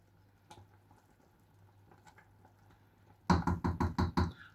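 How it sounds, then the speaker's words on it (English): Strawberry jam boils in a pan. After a quiet stretch, a run of loud, close bubbling pops bursts out in quick succession. "And now back to the bubbling."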